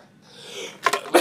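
A man gives a sneeze during a live wireless-hacking presentation: two quick sharp bursts close together followed by a third, near and loud in a quiet room.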